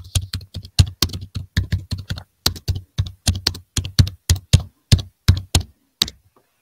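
Typing a web search on a computer keyboard, producing loud close thumping keystrokes in a steady rhythmic run of separate clicks with brief pauses, and no talk over it.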